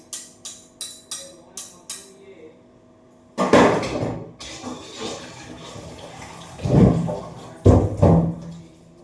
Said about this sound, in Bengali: ছুরি দিয়ে বাড়ি মারি সব পড়ে যাচ্ছে।